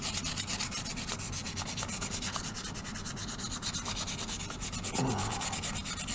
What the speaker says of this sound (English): sand both pieces, get that oxidation off of the wire itself